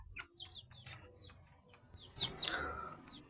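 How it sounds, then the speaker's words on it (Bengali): Broiler chickens in a coop cluck and chirp repeatedly nearby, with a busier burst of calls near the end. "আপনারা খাসার ভিতরে ব্রয়লার মুরগি দেখতেছেন"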